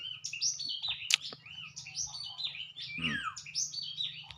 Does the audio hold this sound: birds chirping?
yes